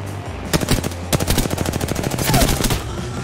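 Rapid automatic gunfire from a first-person shooter, Apex Legends, played on PC, fires in close, loud bursts of quick shots with brief pauses between volleys.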